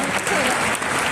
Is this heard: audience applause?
yes